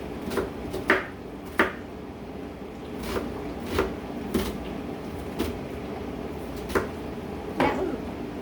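Knife chopping the last half of an onion on a cutting board, a series of sharp, irregularly spaced chops near and fairly clear against a quiet kitchen background.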